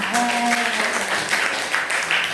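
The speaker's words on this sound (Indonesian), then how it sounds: "silakan tepuk tangan untuk kelompok A" Classroom applause for a student group, dense even clapping filling the whole short stretch, with a teacher's voice faintly showing beneath near the start.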